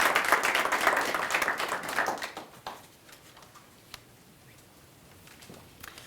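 Applause from an audience at a county education event, a dense burst of clapping that fades after about two seconds into scattered claps and quiet room noise.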